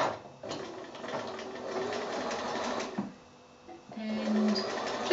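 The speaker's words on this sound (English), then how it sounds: "I just start sewing from that point on the binding" A sewing machine stitches binding onto the edge of a quilt, running in a steady whirring burst, pausing briefly, then starting up again.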